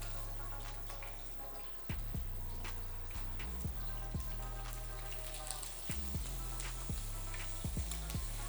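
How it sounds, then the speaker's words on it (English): Pork belly searing in a hot pan, a steady sizzle broken by repeated sharp pops and spatters of fat, close and continuous with no talking. "Nothing like the popping of a poor belly."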